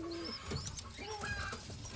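Racing pigeons coo softly and intermittently at close range, with a few short chirps mixed into a faint background hum.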